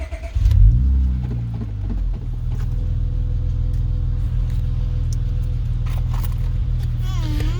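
A car engine cranks and catches in a brief, loud burst, then settles into a steady low idle rumble that continues throughout, with a few faint clicks and noises over it.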